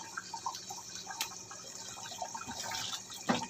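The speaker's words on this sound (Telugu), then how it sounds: "ఇప్పుడు ఇక్కడ కూర అయితే ఉడుకుతుంది కదా" A pot of mutton curry simmers, giving faint, soft bubbling and liquid plops with an occasional louder pop, heard close in a quiet kitchen.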